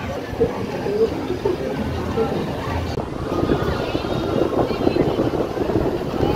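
Steady wind buffeting a microphone outdoors in the Philippines, a broad roaring rush that continues throughout with slight gusts.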